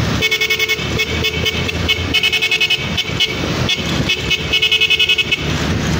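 A loud vehicle horn honks in rapid repeated toots over running car and road noise, close by and insistent.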